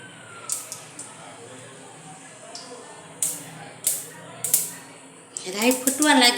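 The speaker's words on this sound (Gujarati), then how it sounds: "રાઈ ફૂટવા લાગી છે," Mustard seeds pop in hot oil during the tempering for a Gujarati stuffed-chilli kadhi, giving irregular sharp crackles and bursts over a low background hiss, and a voice talks.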